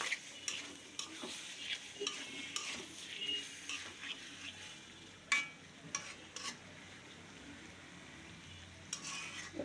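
Fish head and potatoes sautéing in a pan for a bottle gourd curry, a faint sizzle under repeated scraping stirs and light clinks of a spatula against the metal pan, with no voices.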